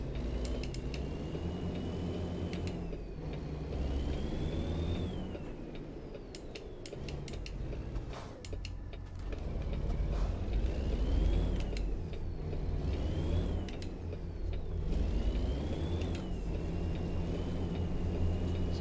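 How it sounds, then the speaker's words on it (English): Heavy truck engine in American Truck Simulator, its steady low drone stepping through repeated downshifts with rising and falling revs, mechanical whine and clunks of gear changes, continuous and fairly loud. "We'll go ahead and turn our signal on. and do a lot of downshifting."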